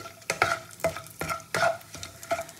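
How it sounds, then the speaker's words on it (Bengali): Whole garam masala, cumin and dried red chillies frying in hot oil, a close, crackling sizzle broken by several sharp spoon scrapes in a loose rhythm, with no voices. "ফোড়নটা ভালো করে ভেজে নিয়ে দেবো এবার শুকনো লঙ্কাগুলো ফোড়নে"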